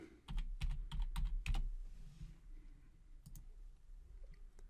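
Keys clack in short bursts as a menu name is typed on a computer keyboard for an IBM iSeries menu setup, a quick cluster of clicks followed by a few scattered strokes, close and fairly quiet.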